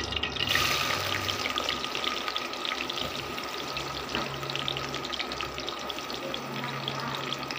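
Onions frying in hot oil, a steady dense sizzle with faint crackles running evenly and close throughout, no voices over it.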